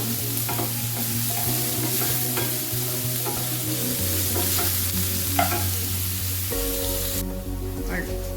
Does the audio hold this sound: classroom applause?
no